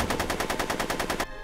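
Rapid automatic gunshots in the Back to the Future video game, a steady burst of about a dozen evenly spaced shots that ends abruptly.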